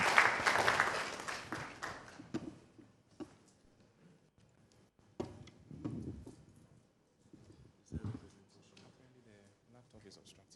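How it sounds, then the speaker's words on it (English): Guests at a Ghana Institute of Engineering launch event clap in a short burst of applause that fades within a couple of seconds, followed by intermittent talking nearby. "Please welcome him with a round of applause"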